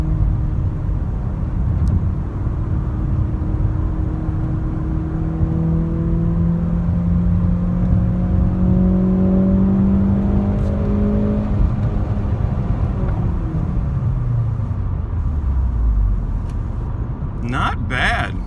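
A Ford Focus RS engine pulls hard, then drops revs with a clear downshift into third as the pitch falls; steady close interior drone, a voice talking over it.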